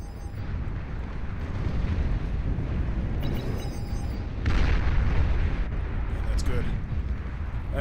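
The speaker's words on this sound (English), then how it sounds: "that missile launcher's real good" Missile launchers fire in the Beyond All Reason strategy game amid a dense, rumbling wash of booms and blasts, with a heavier burst midway and a voice talking over the battle noise.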